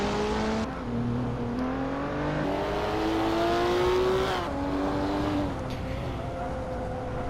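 A toy-car engine in the Hot Wheels Unleashed racing game whines and rises in pitch as it accelerates, dropping briefly at gear shifts, loud and steady over a continuous rushing background.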